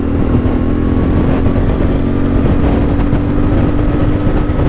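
A CFmoto 450MT motorcycle fitted with a 15-tooth front sprocket pulls hard in sixth gear, its engine drone loud and steady throughout with wind rush over it and no pauses.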